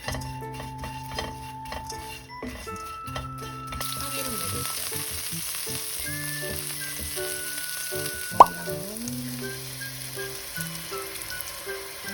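Anchovies stir-fried in a pan until golden crackle and sizzle steadily, with a single sharp clink partway through and light music playing underneath.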